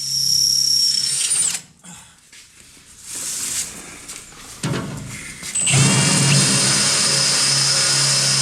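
A power drill bores into a hard, heat-affected welded steel part, its loud motor whine cutting out briefly, grinding at lower strength, then surging back to a sustained close drone.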